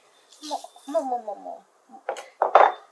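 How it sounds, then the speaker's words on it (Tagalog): Muffin batter being mixed in a bowl for crunchy muffins gives a few short utensil clinks and scrapes near the end, following a stretch of nearby talking. "We're going to mix everything."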